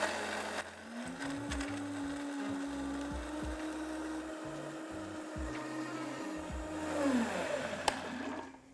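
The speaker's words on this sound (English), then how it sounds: "So now we're gonna blend this." A countertop blender whirs steadily through zucchini pesto, a continuous close motor drone with a brief dip and rise in pitch near the end, no voices over it.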